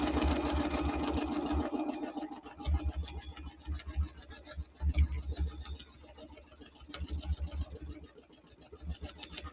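A sewing machine stitching quilt blocks runs steadily with a fast mechanical whir and ticking, rising and easing in speed across the stretch.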